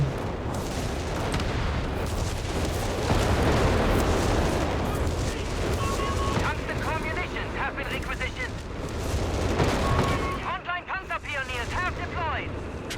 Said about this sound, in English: Counter barrage with the bishops, but definitely walking Stuka has the advantage, can launch its rockets in the course of a few seconds